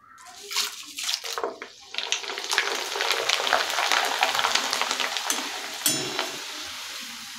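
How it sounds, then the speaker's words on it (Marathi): Corn papad dropped into hot oil, bursting into loud, continuous close-up sizzling and bubbling that starts with a few splashes and settles into a steady fry. "यानंतर आता मी याच्यामध्ये मक्याचे पापड आहेत ते तळून घेते।"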